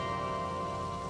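Rain falls steadily outside a home in a sitcom scene: a dense, continuous hiss that stays even throughout, with a faint tonal hum beneath and no voices.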